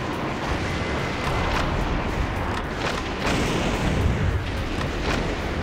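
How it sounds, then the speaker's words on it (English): Grenade launcher firing in the video game Metal Wolf Chaos XD, loud booming blasts and rumbling explosions layered over dense game noise. "Okay, time for us to go. Grenade launcher."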